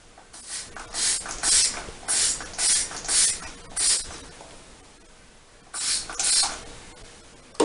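Aloe Vera LR mouth spray for gum and tooth care, sprayed in a quick series of short, hissy bursts, a pause, then two more puffs, close and moderately loud with no talking.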